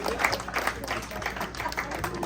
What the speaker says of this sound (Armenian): Լավ ծափ տվեք, ժողովուրդ,